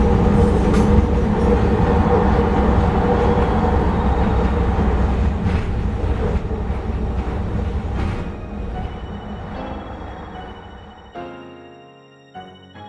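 A SkyTrain in the game Minecraft rolls into a terminus station, with a loud continuous rumble and rail noise that gradually fades and thins toward the end, no voices.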